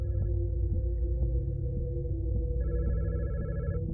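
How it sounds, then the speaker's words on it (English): A phone rings steadily in the horror video game God's Basement, a continuous electronic tone over a deep, droning ambient hum, with a second higher tone joining near the end. "So apparently, in this case, I'm just supposed to not answer the phone. Thing is, do I keep it ringing?"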